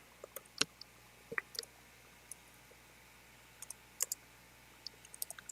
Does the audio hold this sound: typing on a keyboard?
yes